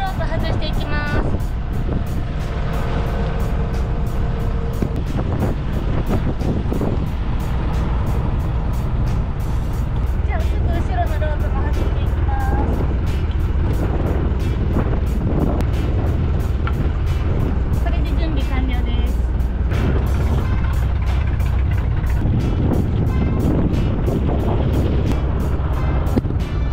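Steady engine drone with rumbling low end throughout from a Yanmar motor boat cruising Kobe Port, with wind and water noise mixed in.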